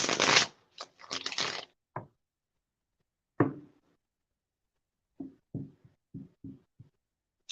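Rider-Waite tarot cards handled and shuffled: a burst of riffling, then several separate soft slaps and taps in quick succession, close and quiet with pauses between.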